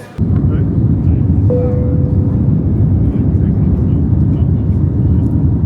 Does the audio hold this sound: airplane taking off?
yes